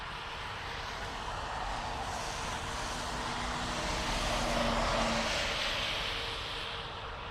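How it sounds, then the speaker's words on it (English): Qatar Airways Boeing Dreamliner arriving from Doha at Dublin Airport, a broad jet engine roar that swells gently toward the middle and eases off, heard at moderate distance with no talk. "Our Dreamliner of Qatar coming in from Doha."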